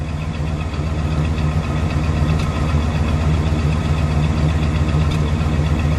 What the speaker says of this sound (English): We have dual exhaust. Let me just let it idle.